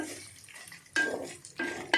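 A tempering of chana dal, urad dal, cumin and mustard seeds fries quietly in a pan, with a low steady sizzle broken by three sharp spatula scrapes and clinks against the metal.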